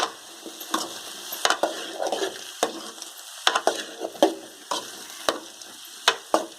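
Bitter gourd frying in about three spoons of oil in a pan for a village-style fry, a steady close sizzle punctuated by regular sharp clacks of a spatula stirring against the pan.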